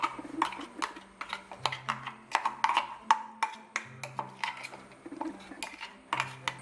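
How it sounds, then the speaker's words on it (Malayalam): Roasted ground coconut mix being added and stirred into cooked chicken in a pot, giving repeated clinks and scrapes of a utensil against metal in an uneven rhythm, close and moderately loud, with no talking. "ഇനി വറുത്തരച്ച് വെച്ചിരിക്കുന്ന മിക്സ് നമുക്ക് ചിക്കനിലേക്ക് ചേർത്ത് കൊടുക്കാം."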